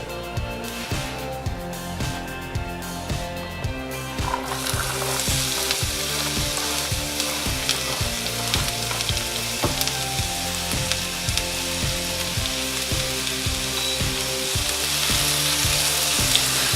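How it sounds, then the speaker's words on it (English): Onions in a tablespoon of warmed oil in a skillet sizzle and fry loudly and steadily, the hiss swelling a few seconds in as they hit the pan, with a low rhythmic mechanical hum underneath. "I got a tablespoon of oil in here, just letting it warm up, and then I'm going to throw my onions in"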